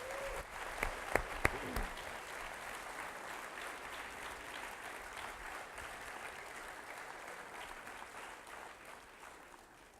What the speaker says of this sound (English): let's give all the candidates and their sponsors one more big round of applause